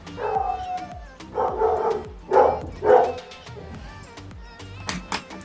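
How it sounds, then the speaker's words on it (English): A dog barks several times in a loose series, the barks ringing out fairly close, followed by softer whines and faint yips. "That's my dog for you."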